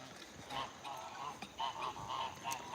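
Geese at an animal sanctuary honking in a quick series of nasal calls, moderately distant and faint over low background noise.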